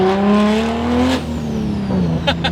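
A 900 hp manual Toyota Supra with a single-exit exhaust revs close by, the engine tone climbing then dropping off sharply, followed by a lower burble and a couple of short crackles near a wall.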